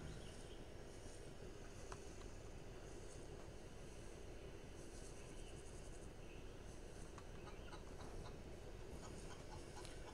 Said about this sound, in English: Oh, here's the chicken.